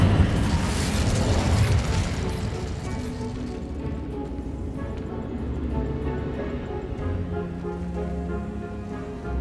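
Casting the Incendio fire spell in Hogwarts Legacy brings a loud roaring whoosh of flame that bursts at the start and then holds as a dense, steady rumble and crackle.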